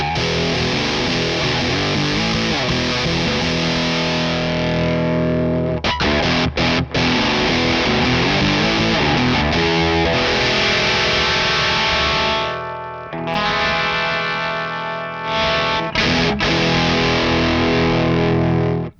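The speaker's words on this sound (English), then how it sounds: "show you how this pedal can really adapt to a D-tuned guitar" A D-tuned electric guitar played through a Rorschach Devices Misophenia distortion pedal, loud, thick chugging riffs with sustained low chords and brief stops, alone without talk.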